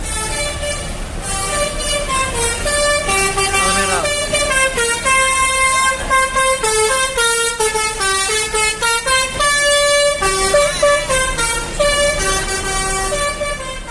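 A Sudiro Tunggal Jaya bus sounds its musical multi-tone horn, a loud close series of bright, shifting notes that plays on almost without a break.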